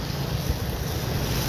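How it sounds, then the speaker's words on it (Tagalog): Strong floodwater from a storm rushes through an overflowing creek in Cebu, a loud, steady roar of turbulent water with no voices. "Kaso lang malakas talaga yung tubig, umapaw."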